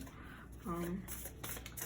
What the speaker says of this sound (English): So let's shuffle them a bit first.